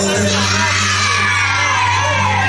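Wedding guests cheer and whoop as a crowd at a family dance, a continuous loud wash of voices over a steady low hum from the venue's music or sound system.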